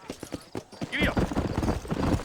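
Horse hooves clip-clop in a steady gallop rhythm in Red Dead Redemption, with a brief whinny and a voice speaking over the start.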